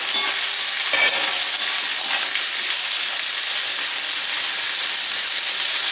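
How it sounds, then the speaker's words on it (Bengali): Fried tiger prawns go into a sizzling masala in a pan, a steady loud hiss and crackle of frying with stirring scrapes throughout, no voices. "এবার ভেজে রাখা চিংড়ি মাছগুলো দিয়ে দিলাম।"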